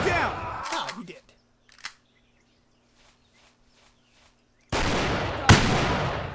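Shotgun blasts in the World War II shooter game Easy Red: a loud burst at the start, a short crack near two seconds, then a heavy blast with a sharp peak after a quiet gap with faint footsteps.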